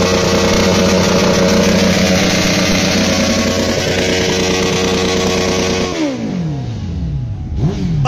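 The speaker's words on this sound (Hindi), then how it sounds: "तीनों बर्नआउट।" Three Suzuki Hayabusa motorcycles doing burnouts together, engines roaring loud and steady with layered revving, then dropping in pitch as they wind down near the end.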